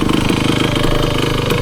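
A 1974 Honda MT250 two-stroke enduro motorcycle engine idles steadily and loudly up close, a rapid, even, buzzy putter with no talk over it.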